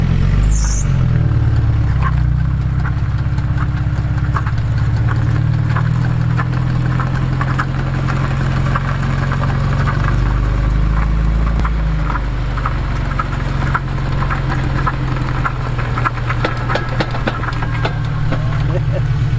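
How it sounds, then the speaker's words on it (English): A worn 30-year-old Suzuki drivetrain fitted with a lunchbox locker clangs and knocks over a steady, loud engine hum, with a continuous low rumble and faint metallic clatter throughout, while a person talks. "the clanging there when I actually push in the clutch"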